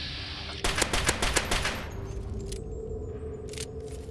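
Automatic gunfire aimed at a Deathclaw in Fallout 3, a fast burst of about a dozen sharp close shots lasting roughly a second, followed by ringing tails and a couple of faint later clicks.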